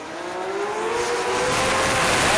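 A sports compact drag car launching down the strip at the Adelaide drag racing meet, a loud, close engine scream rising steadily in pitch as it accelerates hard, with constant roar underneath.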